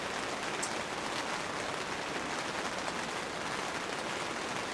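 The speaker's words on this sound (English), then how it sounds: "You can hear the rain, it is raining" Steady rain drums on an SUV tent during car camping, a dense, even patter that holds at constant loudness throughout with no voices.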